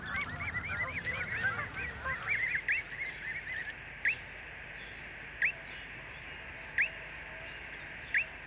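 Canada geese on London waters honk in a noisy overlapping cluster at first, then a single sharp call rings out every second or so over a soft background.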